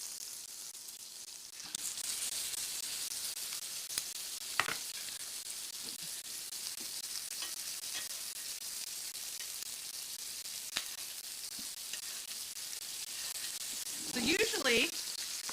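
Steak searing in a skillet that is not quite hot enough, cooked sous vide beforehand: a steady, moderate sizzle of frying runs throughout, with a few clicks and a brief clatter near the end and a voice speaking briefly.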